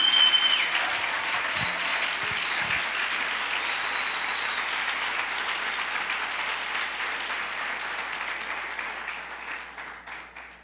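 Church congregation applauding during a Sunday service, sustained broadband clapping that fills the whole stretch and slowly fades toward the end, with no talk over it.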